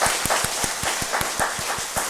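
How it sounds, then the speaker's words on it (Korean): A church congregation at a dawn prayer service applauds four elders, a dense steady burst of clapping with rhythmic stronger claps pulsing through it, close and loud, no voices. "먼저 우리 장로님 네 분 박수 한번 할까요?"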